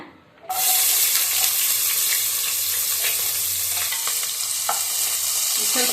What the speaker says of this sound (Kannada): ಈರುಳ್ಳಿ ಸಣ್ಣಗೆ ಹಚ್ಚಿಟ್ಕೊಂಡಿದ್ದೀನಿ ಇದನ್ನು ಒಗ್ಗರಣೆಗೆ ಹಾಕೋಣ